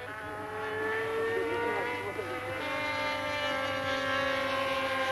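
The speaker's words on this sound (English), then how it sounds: "remotely piloted model airplanes are used to instill a feeling of air combat" A remotely piloted model airplane engine whines in a loud, sustained buzz with shifting pitch as it flies, steady throughout with a narrator speaking over it.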